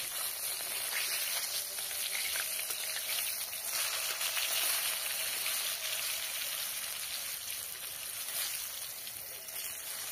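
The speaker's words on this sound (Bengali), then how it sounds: "শোল মাছ ল্যাটা মাছ সবসময় একটু কড়া করে ভাজবে" Snakehead fish frying crisp in hot oil in a pan while cooking on a rooftop: a dense, steady, close sizzle with fine crackling that holds evenly for about ten seconds, with no talk.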